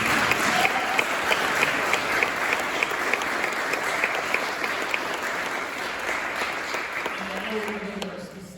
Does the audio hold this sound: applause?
yes